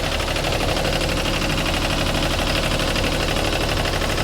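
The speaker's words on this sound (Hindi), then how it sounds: "ये आप देख सकते हो जनसेट वर्किंग में है।" A Mahindra three-cylinder diesel engine drives a 20 kVA open-frame silent DG generator set, running at a steady, loud, continuous drone with a rough mechanical rattle and no pauses or talk.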